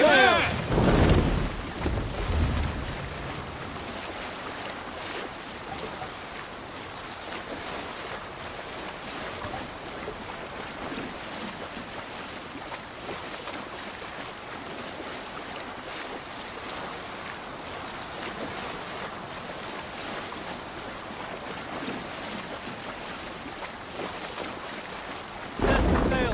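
A Viking longship in Assassin's Creed Valhalla sails through open water, with a steady rush of wind and waves lasting throughout, and louder gusts at the start and end.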